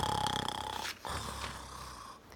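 A voice imitates a bear snoring, a long raspy rumbling inhale followed by a brief pause and a softer breathy continuation, close and fairly quiet.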